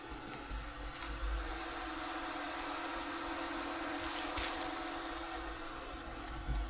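Off-grid water pump in a newly built pump house humming steadily just after being powered up, a constant low drone with faint clicks and rattles, no talking.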